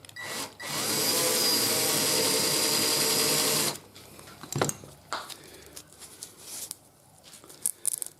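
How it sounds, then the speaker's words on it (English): A power drill whirs steadily for about three seconds while boring a hole through a motorcycle radio mount, followed by scattered clicks and handling knocks. "I've got a drill that's going to drill through there"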